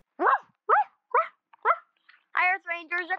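A voice imitates a dog barking, with four short yapping barks followed by a few longer whining, howl-like vocal sounds, close and clear with no other noise.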